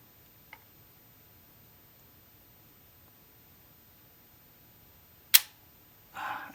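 A single sharp, short click of the shutter releasing on a Minolta 110 Zoom camera with its top casing removed, faint and close in a quiet room, followed by a brief soft rustle.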